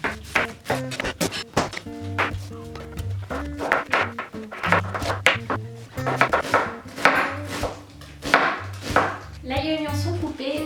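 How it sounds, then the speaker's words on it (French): A knife chops garlic and onion on a cutting board, quick irregular clusters of sharp close thuds, with softer gaps and a faint background tone, no talking. "Il nous reste maintenant plus qu'à couper tous les légumes avec l'ail,"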